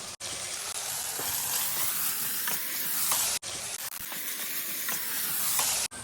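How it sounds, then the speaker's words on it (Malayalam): Onions sizzling in hot oil in a pan for sweet potato cutlets, a continuous bright frying hiss broken by a couple of sharp clicks, steady and fairly close with no talking. "അതിനായിട്ട് നമ്മളൊരു പാൻ ചൂടാക്കി എണ്ണ ഒഴിച്ച് അതിലേക്ക് ആവശ്യത്തിനുള്ള സവാള ആഡ് ചെയ്ത് കൊടുക്കുന്നുണ്ട്"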